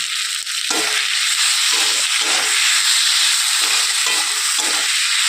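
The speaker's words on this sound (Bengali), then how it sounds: "এর মধ্যে দিয়ে দিচ্ছি চারটে কাঁচা লঙ্কা" Green chillies, four of them, drop into hot oil in a pan of kundri (ivy gourd) being cooked, raising a loud steady sizzle and hiss that runs unbroken throughout, with faint stirring scrapes underneath.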